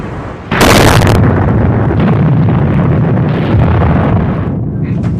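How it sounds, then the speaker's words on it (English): The German submarine U-864 explodes as it sinks: a loud, sharp blast erupts, then gives way to several seconds of heavy, sustained rumbling and breaking-up noise that slowly eases. "loud, sharp explosion, followed by breaking up noises"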